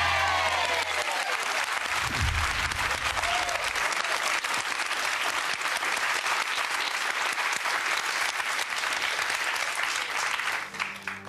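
A studio audience on the game show Deal or No Deal applauds, a dense, even wash of clapping that holds steady and starts to thin out at the very end.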